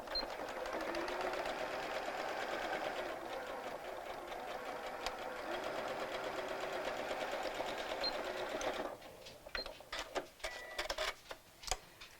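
A sewing machine stitches the sleeve of a small doll dress with a rapid, steady mechanical whir for about nine seconds. It then stops, leaving a few soft handling clicks and taps.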